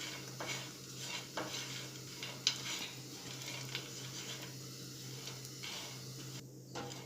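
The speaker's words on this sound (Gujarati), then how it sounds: "સ્લો ગેસ પર આપણે શેકી લઈશું। શેકીને એડ કરીશું તો એનો ટેસ્ટ સરસ આવે છે। તો 1 મિનિટ જેવું બદામને સાતળી લઈશું।" Almonds sautéed in a pan over a slow gas flame, with a soft, steady sizzle under repeated stirring and light scraping of a utensil against the pan, fairly close, with no voices.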